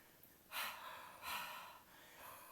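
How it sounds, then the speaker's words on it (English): Ujjayi yoga breathing, a hushed throat breath drawn through the nose, comes as two close, airy breaths about a second apart, with no speech. "So just demonstrate Ujjayi breathing for you."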